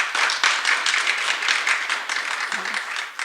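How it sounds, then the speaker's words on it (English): An audience at an Essex County Freeholders African-American Heritage Month celebration bursts into applause, with dense, sustained hand clapping filling the room throughout. "I think that alone deserves a round of applause"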